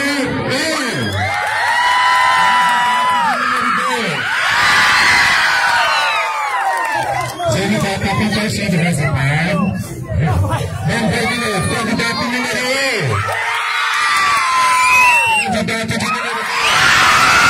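A crowd at a 62nd anniversary celebration in Guassussê shouts and cheers in loud, overlapping waves of screams and yells over dense babble. Excited voices swell and dip several times across the stretch.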